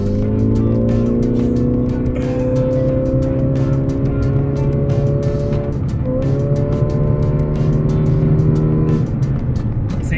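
A Toyota Prius fitted with an Injen cold air intake accelerates hard, its loud close engine drone climbing steadily in pitch, dropping briefly at a shift, then rising again.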